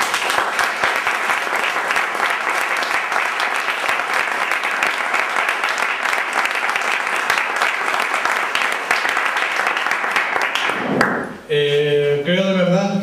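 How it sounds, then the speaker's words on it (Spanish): Sustained, loud applause fills a hall at a Falange Auténtica political rally in Alicante. The dense clapping runs steadily for about eleven seconds, then breaks off abruptly, and a voice begins talking. "para los que pido nuevamente otro aplauso."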